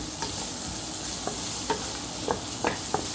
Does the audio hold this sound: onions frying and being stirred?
yes